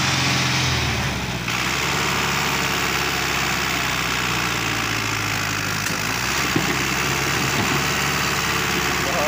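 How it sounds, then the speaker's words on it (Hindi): Loud, steady low rumble of a tractor engine labouring while uprooting a tree stump in a garden, heavy droning with a shift in pitch as the load changes and a brief knock near the end, close and alone. "ट्रैक्टर का जोर भी देखो"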